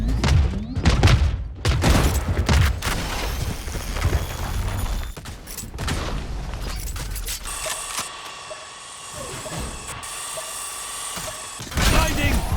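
Missile launches in a competitive first-person shooter match, heard as a dense, loud volley of booms and mechanical clatter with layered gunfire-like bursts, followed by a high electronic whine and sustained tones.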